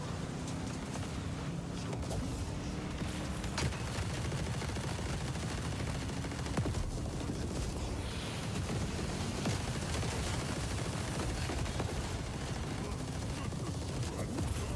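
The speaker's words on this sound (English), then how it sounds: "I'm just finding guys and shooting them." Rapid gunfire bursts from Warhammer 40K Speed Freeks combat, dense and continuous over rumbling vehicle and explosion noise, with occasional sharper shots standing out throughout.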